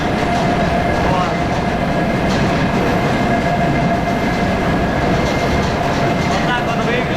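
A freight train wagon rolls along the rails in Russia, heard from inside as a loud, constant rumble with faint squeals and clatter running unbroken throughout.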